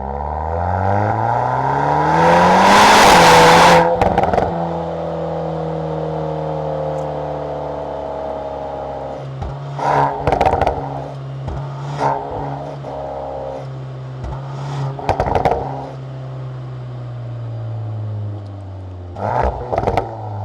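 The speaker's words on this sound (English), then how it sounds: "I really like how the exhaust sounds." 2025 Volkswagen Golf R Black Edition exhaust under acceleration: the engine note climbs steadily through the gears with a loud burst early on, then settles into a steady cabin drone broken by short clicks and thumps.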